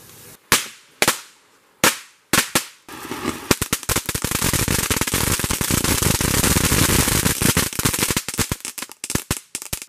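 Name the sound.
firecrackers exploding inside watermelon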